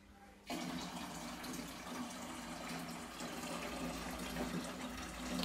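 Hot tap water gushes steadily into a home-brewing container after a brief quiet start, a continuous close splashing stream with no talking.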